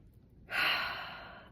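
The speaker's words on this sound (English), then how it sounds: "Deep breath in." A single deep breath drawn in through the mouth, a clear close airy inhale that rises suddenly and slowly trails off after a quiet start.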